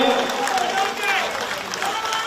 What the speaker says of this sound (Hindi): सब लोग दोनों हाथ ऊपर करके तालियां बजाएं।